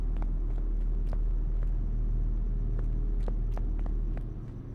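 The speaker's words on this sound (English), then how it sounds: "Now you just need to slowly accelerate and then straighten the wheel and off you go" A car in a cafe management video game pulls away slowly, its low engine rumble holding steady with faint clicks and taps on top, then fading as it drives off.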